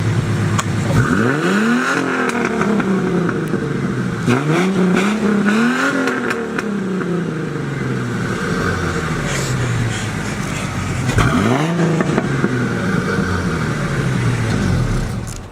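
A supercharged Mustang engine revs hard several times in loud surging bursts, pitch climbing and falling with each throttle blip over a steady rumble.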